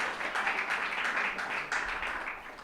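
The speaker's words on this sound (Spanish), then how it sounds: "Otro aplauso al Señor." Applause during a church service, a steady crowd of hands clapping continuously at moderate volume, with a fresh swell near the end.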